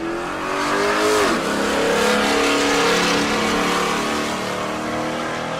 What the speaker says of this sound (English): the E-body, that's a Challenger. Gen 3 Hemi under the hood.